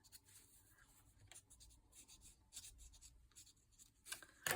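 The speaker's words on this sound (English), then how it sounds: "I just want to add a little bit of pencil there" Pencil strokes scratch faintly across paper during a mixed-media craft session, a soft irregular scribbling of short marks that ends with a few sharper, louder strokes.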